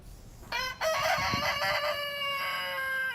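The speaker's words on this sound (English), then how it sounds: "the rooster is a very vocal protector of his chicken coop" A rooster crows loudly and close by at a chicken coop, one long drawn-out cock-a-doodle-doo with a harsh, harmonic tone over faint background hiss.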